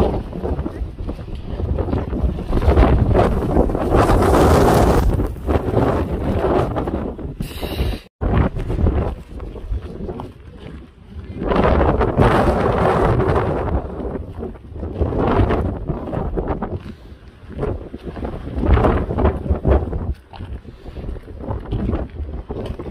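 Strong coastal wind at Cabo da Roca buffets the microphone in loud, gusting roars that rise and fall, with faint voices under the rushing air.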